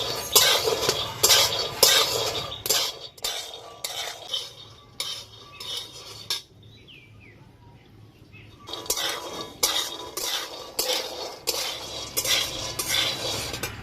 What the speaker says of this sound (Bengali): হালকা আঁচে বাদামগুলো নাড়াচাড়া করে ভালো করে ভেজে নেব।